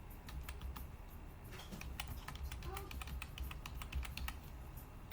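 Rapid keystrokes on a computer keyboard as an Aadhaar number is entered, a steady run of light clicks close up, with a voice talking faintly underneath.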